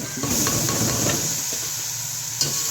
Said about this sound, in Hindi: सॉरी जी, मेथी नहीं, पहले मूंगरे डालूंगी।